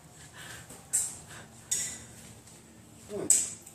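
Utensil scraping and clinking against a pot while stirring potato salad in a home kitchen, a few distinct metallic knocks over faint room noise.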